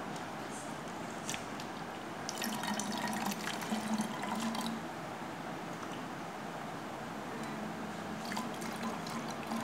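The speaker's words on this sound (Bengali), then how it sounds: "তো দেখো একটা ছাঁকনির সাহায্যে এবার বোতলে আমি ভরে নিচ্ছি।" Homemade Limca-style lemon drink poured through a strainer into a bottle makes a soft, continuous trickle and splash with faint drips, close but quiet and swelling slightly midway, no voices.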